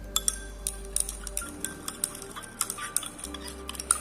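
A spoon stirs detergent solution mixed with turmeric indicator in a glass, giving repeated light clinks and taps against the glass over a low steady hum, close and fairly quiet.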